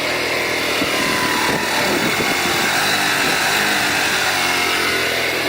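The small two-stroke engine of a TaoTao ATM50-A1 scooter revs up close and loud, a continuous buzzing whine with slight rises in pitch over several seconds and no talking.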